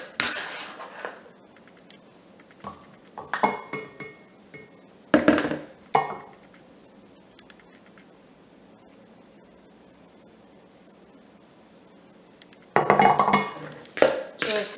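Ripe strawberries are knocked loose from a kitchen masher into a bowl, making a few short clinking and tapping bursts of metal on bowl, spread out with quiet gaps between them and a louder clatter near the end.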